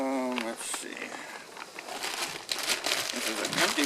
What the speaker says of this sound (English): This is an empty plastic bag that my dinners were put in.